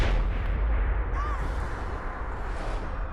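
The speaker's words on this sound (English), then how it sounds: "the bombs will go off, and you will be yeeted" Bombs go off in a Fallout 4 pre-war scene, a deep rumbling blast that rolls on heavy and sustained, with a faint rising whine passing over it.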